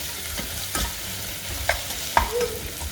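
Chopped onions with salt sautéing in heated oil in a pan: a steady close sizzle throughout, broken by a few scraping stirs of a spoon against the pan.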